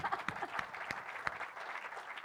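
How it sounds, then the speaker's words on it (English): Audience applause at a tech conference welcome session, a dense steady patter of many clapping hands with sharper individual claps standing out, moderately loud and continuous throughout with no talking. "You are expected to applaud."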